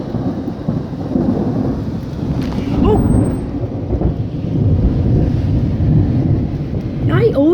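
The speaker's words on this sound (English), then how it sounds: "I'm recording the storm." Heavy thunderstorm at dusk with steady loud rain and rolling thunder that swells and cracks close by, with a brief startled exclamation from a person partway through.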